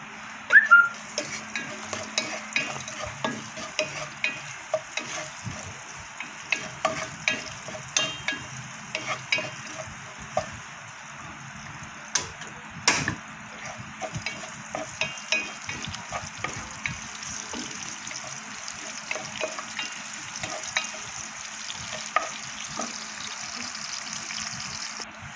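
Garlic and onion sauté in a pan for chicken sotanghon soup, a soft continuous sizzle broken by frequent utensil clicks and stirring scrapes, close and moderately quiet with no talking.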